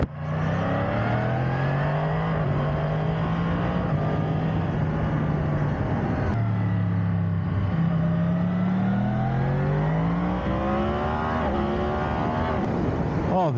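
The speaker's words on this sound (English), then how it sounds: "oh, this bike's quick." A Yamaha MT10 motorcycle engine accelerating hard, loud rising engine notes climbing in pitch through several gear changes, close and continuous.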